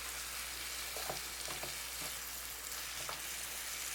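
Chicken roll ups and mixed vegetables fry in a pan with a soft, even sizzle and a low steady hum, plus occasional light scrapes as the food is moved.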